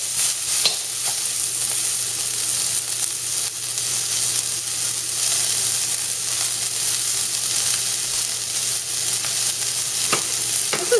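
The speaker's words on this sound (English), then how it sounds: "we're going to add in half of an onion that's been fairly thinly sliced. And let these soften up really nice." Half an onion, thinly sliced, frying in a pan gives a steady close sizzle for the whole stretch, with occasional soft stirring clicks and no talk.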